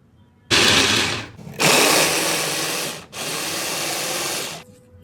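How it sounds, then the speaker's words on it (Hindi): Onion being chopped for a momo filling, heard as three long, loud, dense bursts of close mechanical whirring, most likely from a chopper or processor, with brief pauses between them. "यहाँ पर हमारी प्याज भी अच्छे से चॉप हो चुकी है"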